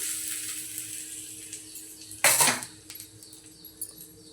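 A hot tadka is poured into a Malvani-style chutney, giving one short, loud sizzling hiss over a faint kitchen background, with a light clink of a utensil afterward.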